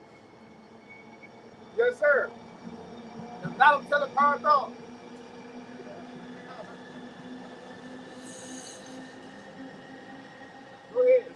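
A train rumbles steadily past inside the Houston Chief Concourse, a low continuous roll with faint hiss, while people talk intermittently nearby.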